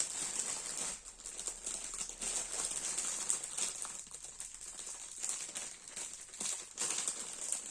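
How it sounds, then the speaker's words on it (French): Plastic packaging of a 40 by 40 cm diamond painting kit is unwrapped, giving continuous close crinkling and rustling with sharper crackles, alone and without talk. "Alors, je vais le déballer."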